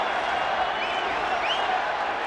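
A ballpark crowd on its feet at a World Baseball Classic game, USA versus Mexico, a dense continuous roar of cheering and clapping with scattered whistles, steady and loud throughout.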